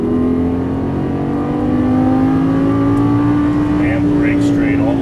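A Lamborghini Gallardo LP550-2 engine pulls hard under heavy throttle on a racing circuit, its steady rising drone loud and close throughout, with an instructor's voice speaking over it.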